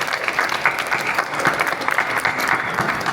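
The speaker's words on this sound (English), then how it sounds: "Round of applause for Adrian" A small indoor crowd gives a round of applause for Adrian, with dense, steady clapping and a few voices mixed in, sustained for a few seconds.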